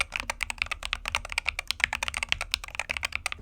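Fast typing on a Royal Clutch C68 HE, a budget Hall Effect keyboard, gives a dense run of sharp, close clacky keystrokes with a slightly hollow tone. No one speaks.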